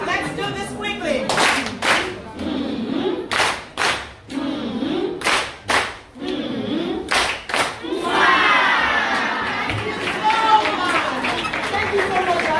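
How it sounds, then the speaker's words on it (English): An audience at a school-management talk gives a rhythmic group clap, a series of sharp, loud unison claps in a patterned beat with crowd cheers, followed by a burst of sustained applause and voices. "We're giving her the love clap."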